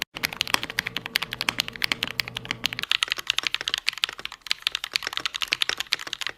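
Fast, steady typing on an expensive mechanical computer keyboard, a dense run of sharp clicky keystrokes close up with no talking.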